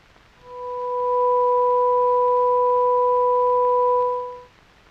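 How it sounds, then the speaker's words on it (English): A steady 500-cycle sine tone with its second harmonic added swells in, holds evenly for about four seconds, then fades out, clean and alone with no voices. "To this fundamental, we will now add the second harmonic."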